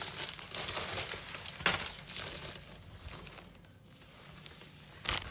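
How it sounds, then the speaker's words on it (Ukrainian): A plastic bag crinkles and rustles nearby in irregular bursts, with sharper crackles standing out and a quieter pause midway. "Там, де пакет шарудить"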